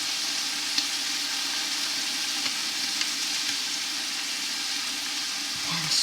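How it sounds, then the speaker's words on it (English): Carrots and onions sizzle steadily in a pot for soup as garlic is pressed in, a continuous close frying hiss with a few faint clicks and a soft clatter at the end. "So I'm just going to put this in a garlic press and press it right in."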